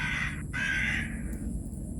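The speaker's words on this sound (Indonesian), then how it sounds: "Hai burung gagak. Kenapa kau muncul?" A crow caws twice, loud and close, the harsh calls separated by a short gap over a low background hum.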